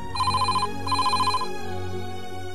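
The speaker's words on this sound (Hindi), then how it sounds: "ओहो फोन बज रहा है," A telephone rings indoors in a home in two quick trilling bursts, clear and fairly close, over soft background music.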